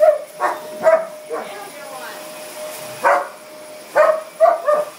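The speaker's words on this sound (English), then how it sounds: "Then there's this attack dog right here." A dog barks in short, close bursts, a few sharp yips and woofs spaced across the moment, with people talking and urging it on over and between the barks.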